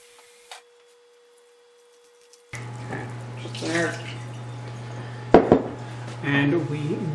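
Cold tap water runs steadily into a measuring container for a strawberry chiffon pie, a continuous close splashing hiss that starts partway through, with a brief clink and a voice speaking over it.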